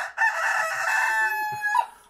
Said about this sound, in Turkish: Evet. Atılgan horoz.